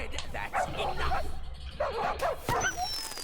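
Cartoonish dogs in the Monkey Island video game bark and yip repeatedly, with some whimpering, loud and close in a steady run of yelps, while a voice speaks over part of it.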